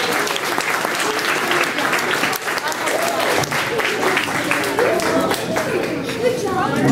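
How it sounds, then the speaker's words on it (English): A banquet crowd applauds steadily for the food committee at a youth football team banquet, dense continuous clapping with some chatter mixed in throughout. "Let's give the ladies a nice round of applause for the great job that they did."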